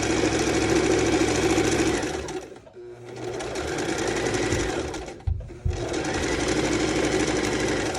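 A sewing machine stitching a quarter-inch seam on fabric, running loud and close in steady whirring bursts, stopping briefly twice with a pause and a pivot between runs.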